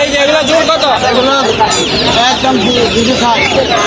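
Chickens cluck steadily at a market stall in Tongi, a close, continuous flock noise mixed with the hubbub of people talking nearby.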